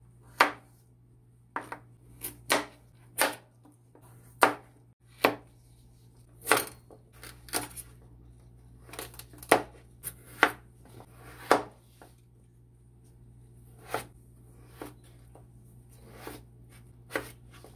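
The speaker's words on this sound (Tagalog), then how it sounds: "so ikakat ko siya." A knife chopping tofu on a cutting board, about twenty-five crisp, distinct strikes in a steady, unhurried rhythm, close and clear with a faint hum behind.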